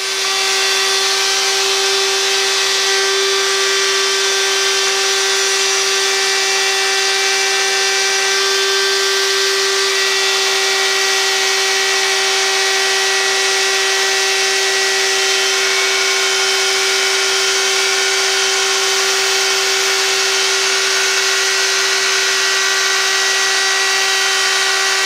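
A high-pitched whining power tool runs continuously and loudly, routing channels a quarter inch deep into 5/8 plywood for a lightened guitar body template, with a steady tone throughout.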